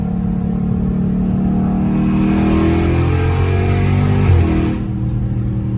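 A Dodge Challenger Scat Pack V8 accelerates hard on a highway, heard through an open window: a loud rising engine roar climbing in pitch for several seconds, then abruptly backing off to a lower drone.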